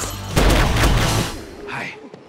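Bursts of film gunfire and booming blasts pound close and loud in a rapid volley from a zombie movie battle scene, then fade into a brief trailing noise.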